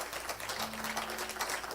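Applause from a congregation at a church worship service, a steady wash of clapping with a faint sustained tone beneath it.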